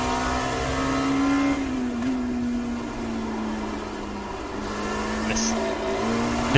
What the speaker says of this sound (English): You could hear the traction control kicking in.